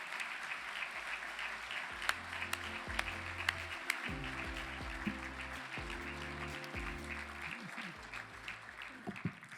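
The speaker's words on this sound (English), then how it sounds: "First round of applause of many." An audience at the NDSU Harvest Bowl gives Ken Grafton a sustained round of applause, steady crowd clapping with a speaking voice running over it throughout.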